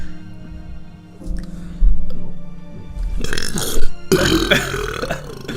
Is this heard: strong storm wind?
no